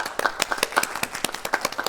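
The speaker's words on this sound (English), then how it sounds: "let's wish him one final goodbye with a round of applause" A small audience at a stage performance of Radium Girls claps in a thin, uneven round, individual hand claps clearly distinct and fairly quiet, sounding like a modest scattered ovation.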